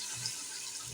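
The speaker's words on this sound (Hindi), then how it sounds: "अब मैं 2 गिलास पानी डालकर" Two glasses of water are poured into a pot of fried spices and oil, giving a steady, close rushing splash that lasts throughout the brief moment.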